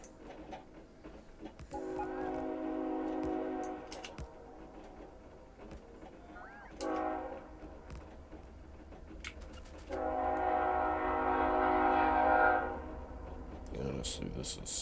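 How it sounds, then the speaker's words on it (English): A train rumbles past in the Factorio factory-building game, with steady low rolling noise and bursts of tonal, horn-like harmonic sound swelling at intervals, heard fairly faintly over background game ambience. "Train coming."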